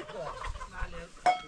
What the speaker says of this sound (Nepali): भाले हो